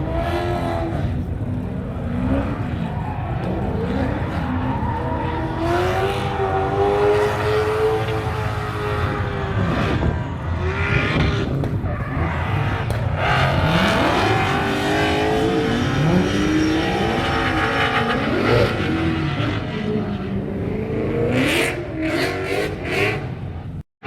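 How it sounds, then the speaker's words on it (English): A drift car in a practice session at Manfeild raceway roars close by, its engine revving up and down repeatedly with sharp pitch swings and bursts of acceleration, loud and continuous throughout. "Practice, Jase Brown drift."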